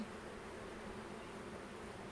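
Honeybees buzzing steadily during a hive inspection, a dense, continuous hum from many bees close by, faint and even throughout with no speech over it.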